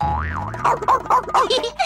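A cartoon trampoline gives a springy boing that wobbles up and down, then quickly repeats in rhythmic bounces, loud and close.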